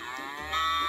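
A recorded cow moo played in a guess-the-animal-sounds game, one close, steady, drawn-out harmonic moo that swells louder toward the end, with no talk over it.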